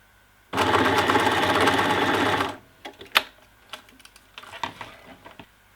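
A sewing machine sews strappy harness straps in a single loud, close burst of about two seconds, followed by quiet handling clicks and taps of fabric and hardware.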